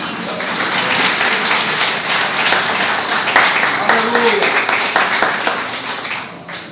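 A church congregation at a youth conference applauds, a continuous spread of clapping beneath a voice calling out over it.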